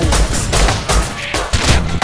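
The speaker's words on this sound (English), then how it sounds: "I'm shooting at them." Rapid bursts of video game gunfire crackle loud and close, several volleys in quick succession with brief gaps between them.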